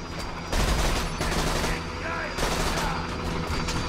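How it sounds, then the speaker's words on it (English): Gunfire in the shooter game Borderlands 2, rapid loud close shots in dense bursts over game noise, with someone talking intermittently. "Let's use the pistol on them."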